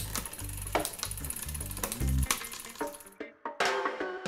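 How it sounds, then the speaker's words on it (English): Rear bicycle derailleur shifting up the cassette toward the largest cog during adjustment, giving a series of sharp mechanical clicks at irregular intervals, close and fairly loud, with no talking. "we'll check it all the way to the top of the block. Click each time."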